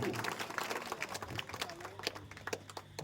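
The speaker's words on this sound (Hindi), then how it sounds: "इनके लिए जोरदार ताली होनी चाहिए, जोरदार ताली" An audience at a welcome gathering in Raj Township gives a faint round of scattered applause, soft, uneven claps heard at a distance with a low murmur of voices.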